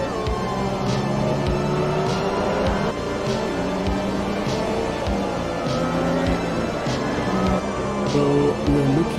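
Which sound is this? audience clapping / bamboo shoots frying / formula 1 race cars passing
formula 1 race cars passing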